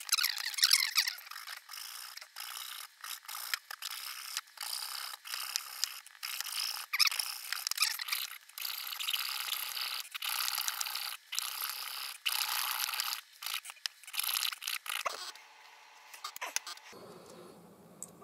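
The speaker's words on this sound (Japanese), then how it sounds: "ノコギリ、これも100均のやつですから、これでちょっと切ってみたいと思います" A cheap Daiso hand saw rasps back and forth in quick rhythmic strokes, scratchy and close, continuing for a long stretch before stopping near the end.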